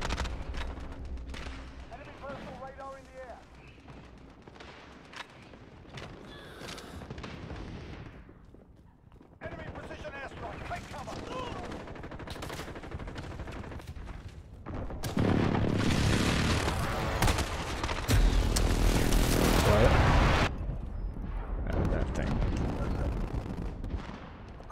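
Gunfire rattles in a Call of Duty: Modern Warfare multiplayer match: a busy mix of shots and explosions over twenty-odd seconds, growing loudest in a dense burst toward the end, with a player talking throughout.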